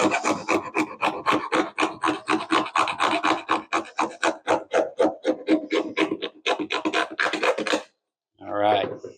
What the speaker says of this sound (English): We got our little hacksaw here.